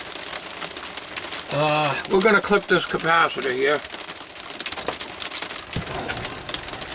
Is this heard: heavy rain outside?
yes